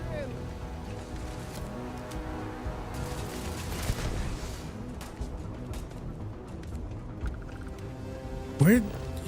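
Gunfire in Starfield comes as dense, rattling bursts under a busy game soundscape and steady spoken talk, with a brief louder whoosh near the end.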